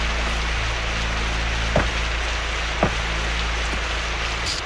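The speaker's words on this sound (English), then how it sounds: "Is this rain that cuts our bodies your doing?" Steady heavy rainfall in an anime scene, a dense even hiss with a low rumble underneath and a couple of sharp knocks cutting through, no voices.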